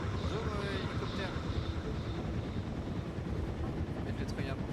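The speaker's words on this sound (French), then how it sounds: "Bonjour, hélicoptère." Helicopter from the video game RV There Yet, a steady rotor and engine roar holding for the whole stretch at an even loudness, with a voice speaking over it.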